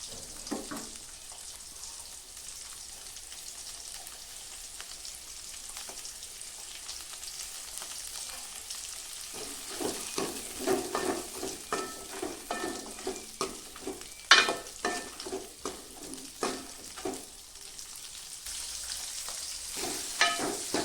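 Onions and chillies fry in hot oil for a Kongunadu-style egg curry, a steady sizzle that turns busier and crackly partway through, with scattered clinks and scrapes of stirring.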